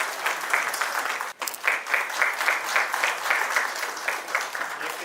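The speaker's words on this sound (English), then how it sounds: "Thank you everybody for that warm applause." Audience at a coaching institute's JEE strategy seminar clapping together, a dense, sustained burst of applause that stays loud throughout with one brief dip partway, no speech over it.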